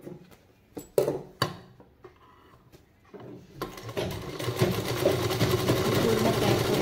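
A sewing machine stitches along all three sides of a fabric piece, starting with scattered clicks and handling, then settling into a steady whirring run; a voice talks faintly underneath.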